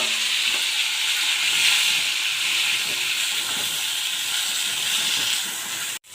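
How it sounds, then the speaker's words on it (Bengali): Cauliflower florets fry in a pan after cumin seeds are tempered, giving a steady, loud sizzling hiss with a few faint stirring clicks, and no voices throughout. "এবারে হালকা করে আমি ফুলকপিগুলো একটু ভেজে নেব।"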